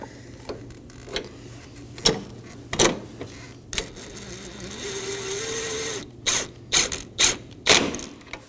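A hand ratchet tightens 10mm headlight fasteners on a Toyota Corolla, giving close, crisp clicking bursts in short runs with pauses between and one longer stretch of steady ratcheting.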